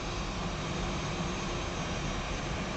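A simulated Airbus A320 taxis in the X-Plane 11 flight simulator, producing a steady, even jet engine drone throughout with no other sounds.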